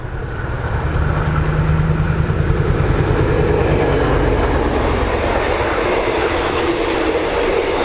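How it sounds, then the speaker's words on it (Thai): Express train 109 from Bangkok to Chiang Mai, hauled by a locomotive, rolls past Phra Keo railway station with a loud, steady rumble and dense clickety-clack of wheels on rails close by. "ชมขบวนรถเร็วที่ 109 นะครับกรุงเทพอภิวัตเชียงใหม่ ผ่านสถานีพระแก้วนะครับผม"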